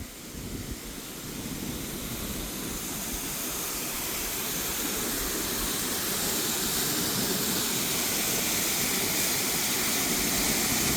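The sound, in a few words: Mirror Lake waterfall at Blanchard Spring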